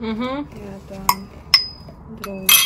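Glasses unpacked from a cardboard box give several sharp, bright clinks at irregular intervals. Someone talks quietly in between them, counting as she goes.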